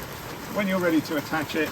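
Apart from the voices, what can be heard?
rain falling outside a parked camper van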